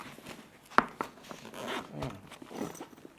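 Quick zipping of the blue zipper on the carry bag for a Nanlite Forza 60 light, several short rasping pulls close up with small handling clicks between them, no speech.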